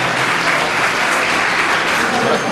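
Steady, dense audience applause fills the room at a community program honoring municipal workers, a continuous wash of clapping hands close by with no break and no speech over it.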